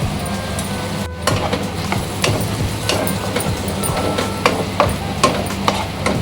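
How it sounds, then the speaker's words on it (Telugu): Onion paste frying over high flame for a chicken curry, with a steady low sizzle and occasional clinks and scrapes of a spoon against the pan, close by and without talk. "ఇంకా ఆనియన్ పేస్ట్ కూడా ఒక 2 నిమిషాలు వేయించుకోవాలి"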